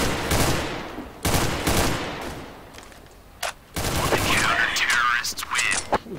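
Gunfire bursts in Counter-Strike: Global Offensive, several loud automatic volleys and single shots with gaps between them, mixed with game effects and some background voices.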